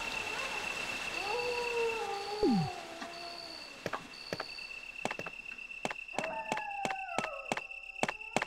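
Dogs in the Resident Evil video game howl and whine in a long rising and falling cry, followed by sharp thuds and fainter whimpering howls amid game effects and a steady high tone.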